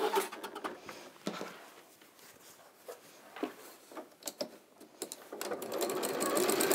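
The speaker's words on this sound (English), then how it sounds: "I'm just going to sew across the top so the ears are trapped in between the two pieces" Sewing machine quietly stitching lining pieces together for an Easter window panel, a soft continuous whir with scattered light clicks and fabric handling, growing slightly louder near the end.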